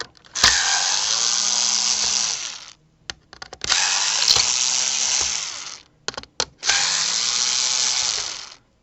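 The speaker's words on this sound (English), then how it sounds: "I like these little screwdrivers, these guys, power screwdrivers." A small power screwdriver used on a Vornado fan repair whirs in three steady bursts of about two seconds each, close and fairly loud, with brief clicks and handling noises between runs.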